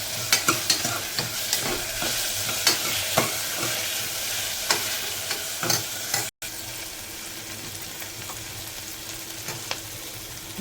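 Ginger garlic paste is stirred and fried in a pan with onion and tomato, giving steady close sizzling broken by frequent scraping stirs of a utensil.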